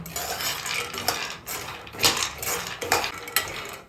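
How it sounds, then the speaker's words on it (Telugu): Almonds stirred in a little ghee in a pan, heard as repeated close metallic scrapes and clinks of a utensil against the pan in an irregular rhythm, with no talking. "ఉండే కొంచెం నెయ్యి ఉంటుంది కదా, దాంట్లో ఈ బాదామి అన్ని ఫ్రై చేసుకుందాము."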